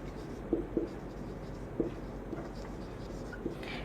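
A pen writes on paper in a quiet room, giving a handful of short, faint scratchy strokes spaced irregularly across a few seconds.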